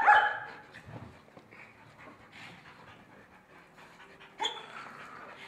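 Aiden, a dog holding a tennis ball, pants in quick breaths close by, with a louder huff at the start and another burst near the end.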